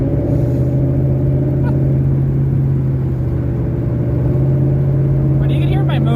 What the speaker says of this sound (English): I do have a leaky header, so you can hear that.